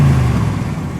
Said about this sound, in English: Let me listen to that rumble for just a second, and then we'll give it a little acceleration. Go ahead, give it a rev.